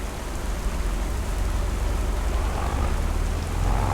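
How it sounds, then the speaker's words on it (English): Steady rain pours down on a farm in the Palatinate Forest in a farming simulation game, a dense, even wash of droplets that holds for the whole stretch with no voices. "Look happy out there in the rain."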